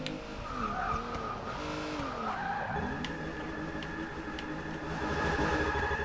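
Tires squeal and skid as a Rolls Royce Wraith drifts in Forza Motorsport 6, with long wavering screeches over a steady engine roar, loud and continuous throughout.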